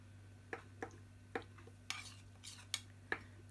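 A utensil clinks against a bowl while stirring a mixture for bread, giving several sharp, close taps spread across a few seconds with soft scraping between them over a steady low hum.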